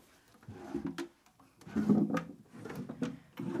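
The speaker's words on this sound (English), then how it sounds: "So I'm gonna go over here to this dresser, check all the drawers" Wooden dresser drawers in a bedroom slide open and shut several times in a row, a series of close, knocking scrapes and thumps with short pauses between them.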